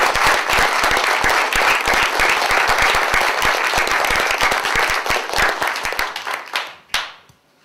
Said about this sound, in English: If we could give them a round of applause for this generous gift, I would do it